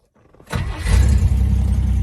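A Rambler car's engine cranks briefly after near silence and catches, settling into a loud, steady idle close by.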